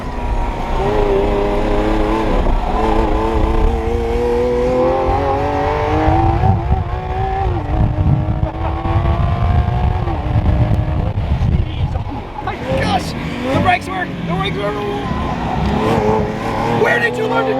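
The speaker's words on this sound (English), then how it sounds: "This car sounds insane in roadster form." A roadster sports car's engine revs hard while driving, climbing and dropping through the gears loudly and up close, with people talking and shouting over it.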